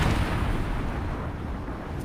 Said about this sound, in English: let me drop some bombs onto